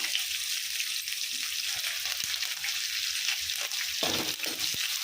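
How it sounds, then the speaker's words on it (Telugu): Loud, steady sizzling of curry leaves dropped into hot oil for tempering, a dense crackle throughout with a few sharp pops and a brief stirring scrape near the end. "ఇది కరేపాకు వేస్తుంది"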